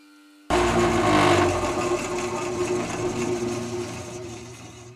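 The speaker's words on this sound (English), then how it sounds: "I'm going to try and take the sides in a little bit on the bandsaw." A bandsaw trimming the sides of a natural wooden slingshot handle, starting abruptly with a loud whining buzz that stays steady and slowly eases off, close and uninterrupted.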